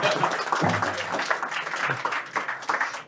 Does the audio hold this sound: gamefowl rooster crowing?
no